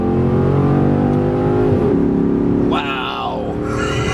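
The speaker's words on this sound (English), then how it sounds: "I mean, a cacophony of V8 sound." Chrysler 300 SRT8 V8 engine accelerating hard, a loud, steady rising drone that shifts pitch partway through as the revs change, heard from close by with no voices over it.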